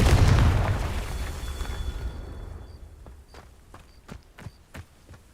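A Confringo blasting spell explodes in Hogwarts Legacy: a loud broadband boom right at the start that rolls off over about two seconds, followed by faint scattered clicks and light footsteps.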